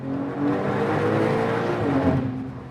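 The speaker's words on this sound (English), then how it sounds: "That does sound pretty good for a turbocharged flat six." A tuned Porsche 992 Turbo S turbocharged flat-six engine drones loudly and steadily from inside the cabin, a low throaty hum that swells slightly as it pulls.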